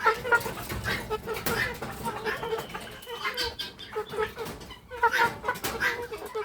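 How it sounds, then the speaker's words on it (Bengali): Naked neck chickens, a rooster among hens, cluck and squawk in a noisy coop, the calls fairly close and overlapping with steady rustling and background chatter. "এটা হচ্ছে মোরগ আর সবগুলো মুরগি"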